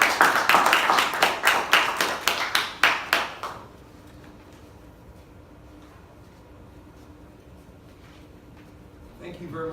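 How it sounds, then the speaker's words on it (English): A Toastmasters club audience gives a loud, fast round of applause for about three and a half seconds, then it stops abruptly, leaving quiet room tone. "Round of applause again for Matt Savard."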